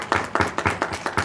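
Hands clap in a steady rhythm for Zahir sahib at a speech event, about five sharp claps spaced evenly, close and moderately loud, with no talk over them.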